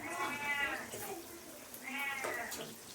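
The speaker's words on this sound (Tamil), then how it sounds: "எங்கள் பூனை கத்துறது பாருங்க" A pet cat meows twice in a home, drawn-out plaintive calls with a faint background hiss, fairly soft and close.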